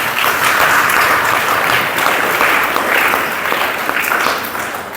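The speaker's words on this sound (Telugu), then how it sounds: "గట్టిగా వారికి చప్పట్లు కొడదాం" Steady applause from a church congregation during a Telugu sermon, dense and sustained clapping throughout that fades slightly at the end.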